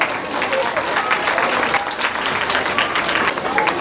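Loud, dense clapping from an audience at a school prize distribution ceremony, honoring the achievers, sustained evenly throughout without a break.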